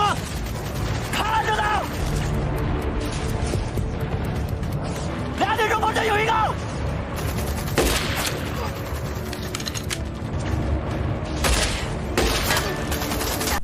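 Sharp sniper rifle shots crack out in an animated sniper duel, single loud reports standing out against a dense bed of battle noise, mechanical clatter and talk throughout.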